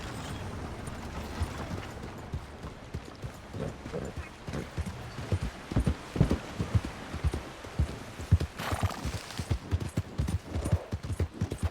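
Horse hooves clip-clop in a steady, uneven rhythm of distinct thuds, close and moderately loud, in Red Dead Redemption 2, with faint ambient noise and a brief brighter rustle partway through.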